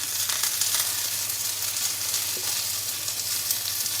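Crushed dried red chili sautéing in hot oil with mustard seeds, urad dal and curry leaves, a steady close sizzle and crackle that holds evenly throughout with no talking.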